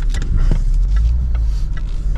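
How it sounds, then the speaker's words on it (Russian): Land Rover Discovery 5 shifting into reverse, its engine a steady low rumble close by, with a few faint mechanical clicks over the idle and no talking. "мы сейчас первым делом включаем заднюю передачу"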